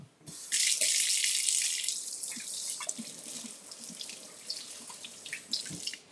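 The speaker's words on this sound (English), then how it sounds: "I'm going to wash my hands so you can see." Hands washed under a running kitchen tap, a bright hiss of water that starts abruptly and splashes steadily, then breaks into softer irregular drips and splashes as the hands move, close and alone.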